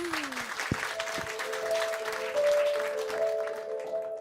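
A live audience at a Dutch talk-and-music show applauds a performer, a steady crowd clapping over faint sustained tones from the room.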